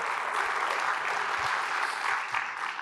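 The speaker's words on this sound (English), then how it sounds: "Let's give Habitat a big round of applause for what they do" An audience gives a round of applause for Habitat at a Long Beach civic event, steady dense clapping sustained throughout at moderate loudness, tapering slightly near the end.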